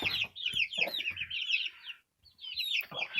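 Chickens cluck and chatter close by in a coop in bursts, with a brief quiet gap before the clucking resumes.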